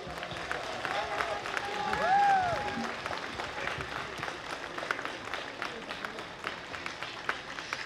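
Crowd at an outdoor pro-life march in Ljubljana applauds the mothers and fathers, a fairly distant, steady clapping under light chatter, with a short whistle-like tone partway through.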